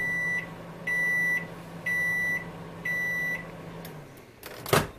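A microwave oven heating a Charal kebab gives four evenly spaced electronic beeps over its quiet hum, which then stops, followed by a short, loud clunk as the door opens.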